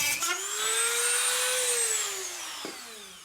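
A power tool cuts into a part on a cheap Kawasaki dirt bike. Its motor whine rises, holds steady and slowly sags in one long continuous pass, loud and close, with no talking.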